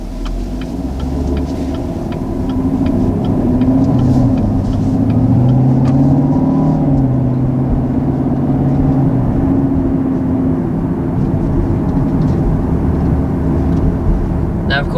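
A 2019 Chevrolet Camaro SS V8 rumbles steadily while driving, a deep loud engine drone with slight rises in pitch, heard from inside the car under a person talking.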